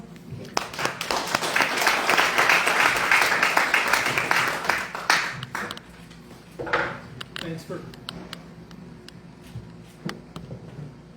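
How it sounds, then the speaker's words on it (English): An audience at a Patriot Roundtable gathering in Miles City, Montana, applauds a Public Service Commission member with a dense burst of clapping. The applause swells for several seconds, then thins into scattered claps and fades as a voice begins. "give him a round of applause"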